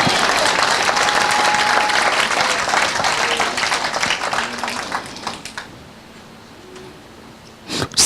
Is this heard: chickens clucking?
no